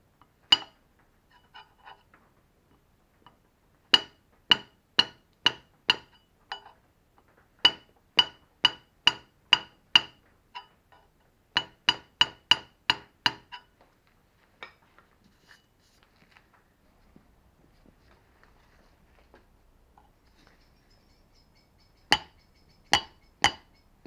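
A rubber mallet strikes a hand scraper against a metal surface in short runs of sharp, evenly spaced taps, several groups of rapid knocks separated by quiet pauses, close and clear with no talk.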